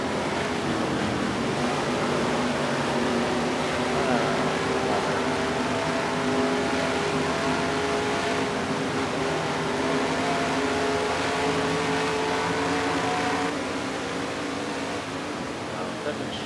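A NASCAR Racing 2003 stock car engine drones loud and continuous at Darlington, holding steady revs with slowly shifting pitch throughout.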